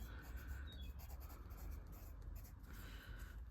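Pen or pencil scratching steadily across paper while paint colour names are written out by hand, a close, quiet, continuous rubbing with small strokes and pauses.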